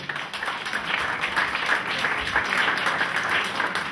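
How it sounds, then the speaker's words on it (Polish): Audience applause at a Polish sports awards ceremony honouring athletes and coaches of the year, sustained even clapping from a hall crowd, moderately loud and steady with no voices on top. "Brawa, brawa proszę Państwa."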